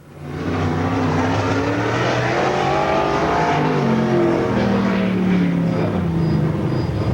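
A race car, the 33 car, laps Challenger Raceway in a STARS event, its engine a loud sustained roar with shifting pitch as it circles the track, continuous throughout.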